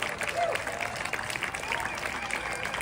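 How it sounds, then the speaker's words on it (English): An outdoor crowd at a Manhattan, New York City gathering claps loudly and steadily, a dense wash of applause with voices mixed in. "Can I hear you guys clap really loud?"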